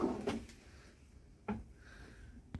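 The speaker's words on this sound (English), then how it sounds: "Everything open down there, soft closed drawers." A soft-close drawer in an Adria Twin Supreme 640 SGX camper van closes with a few soft, brief thuds and slides spaced over a couple of seconds, heard close up in a quiet interior.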